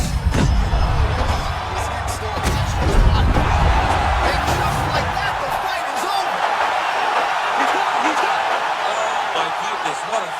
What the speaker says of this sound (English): Yeah, man, crowd loving it